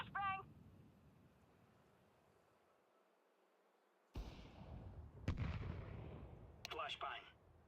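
Flashbang grenade blasts in a Counter-Strike 2 matchmaking game: a sudden loud broadband bang, a second sharp crack a second later, then a crackling burst, preceded by a brief voice and quiet low rumble.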